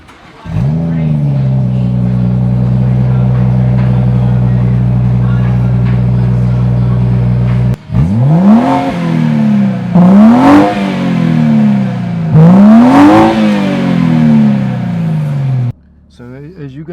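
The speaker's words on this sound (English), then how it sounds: "that was the startup with the Dynon free flow exhaust, which means this car has no valves, so it's always loud" BMW 440i fitted with a Dynon free-flow exhaust without valves: a cold start flares loud and settles into a steady deep idle, then three or four sharp revs rise and fall, close and loud, before a sudden cut.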